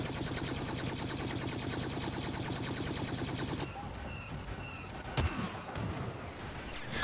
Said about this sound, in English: Let's see how these weapons stack up in the rate of fire test.